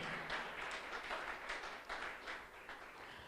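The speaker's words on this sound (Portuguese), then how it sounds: "Salve de palmas ao Senhor" A church congregation applauds in praise, a faint, steady patter of many hands that swells and eases in small waves, heard from a distance with no clear voices.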